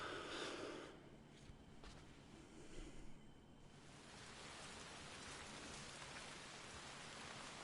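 Rain falls in Red Dead Redemption 2, a soft, steady hiss of drops that swells into a denser wash of noise and stays quiet, with no voices over it.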